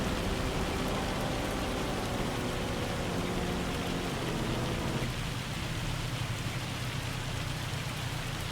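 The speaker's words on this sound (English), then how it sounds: "now that is definitely raining cats and dogs" Heavy rain pours steadily in a farming video game, a dense, constant hiss that stays loud and even throughout with no voices.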